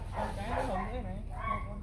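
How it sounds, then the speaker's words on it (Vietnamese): A white bobtailed Bac Ha puppy, a female, gives short yipping barks and whimpers close by, partly under a woman's speech. "Còn một con cái nữa là con mũi hồng, con đang sủa đây này."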